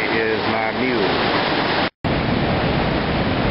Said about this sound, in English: The falls actually split on both sides of us.